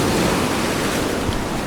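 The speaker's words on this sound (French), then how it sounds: "il y a notamment quand même de jolies vagues ici" Sea waves breaking on a shoreline make a steady, loud, broadband roar of surf that fills the whole stretch without pause, with no voices.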